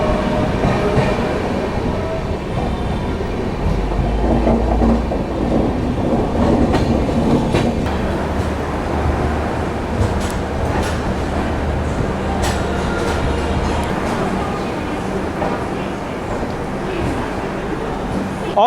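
Inside the Shatabdi Express running from Chennai to Bangalore, a loud continuous rumble of the moving coach with clickety-clack rhythm, low rolling thuds and occasional rattles throughout.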